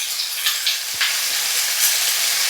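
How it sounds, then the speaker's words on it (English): Ground beef browning in a hot pan over medium-high heat gives a loud, steady sizzle, close and continuous, with brief stir scrapes and no voices. "we're sizzling"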